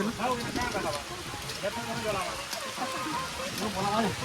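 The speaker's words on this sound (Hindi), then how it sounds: "चलो चलो वर्षा है ना" Steady rain falls continuously with a dense, even hiss. People talk over it throughout.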